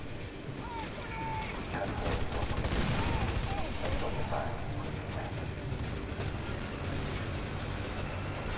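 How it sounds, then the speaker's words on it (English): Distant enemy gunfire in Red Faction Guerrilla Remastered, a steady crackle of shots from far off layered over dense game noise and explosions, continuing throughout at moderate loudness. "They're shooting from really far away."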